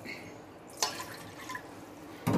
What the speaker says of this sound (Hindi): इसके साथ ही मैं इसमें पानी डाल के ना चावल गलने के लिए रख देती